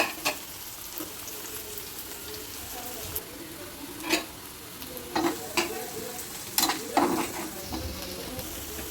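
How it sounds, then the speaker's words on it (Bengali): Garlic frying in oil in a pan before jute leaves go in, stirred with a spatula: a continuous soft sizzle punctuated by scattered scraping strokes and a few sharper clacks against the pan. "রসুনগুলো হালকা একটু ভাজা হয়ে গেছে,"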